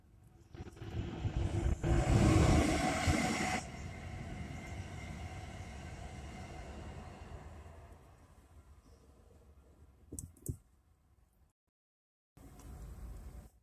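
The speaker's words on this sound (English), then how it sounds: "It's another long distance Amtrak." A long-distance Amtrak passenger train on a former Southern Railway line roars past nearby, loudest early, then rumbles on steadily and fades before a brief silence and a renewed burst of sound.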